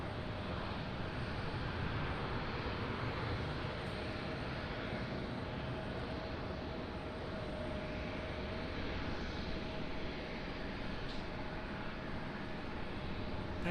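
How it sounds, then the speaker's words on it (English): A Delta CRJ 900 regional jet taxiing out for departure at Raleigh-Durham airport, a steady broadband engine roar held at an even level throughout with no talk. "Delta CRJ 900, heading out for departure"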